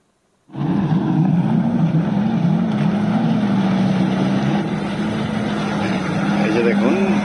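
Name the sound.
speedboats running on the water at Al Mamzar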